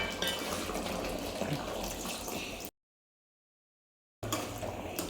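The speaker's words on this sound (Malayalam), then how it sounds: "നമുക്ക് തലപ്പാൽ ഒഴിക്കാം." Thick first-press coconut milk pours into a simmering vegetable stew with a soft, steady liquid rush that cuts to silence midway, then resumes.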